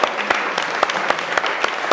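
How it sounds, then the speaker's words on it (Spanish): Audience applause at a talk on addiction and codependency, brisk dense clapping with rhythmic accents from a crowd, loud and close. "Un aplauso."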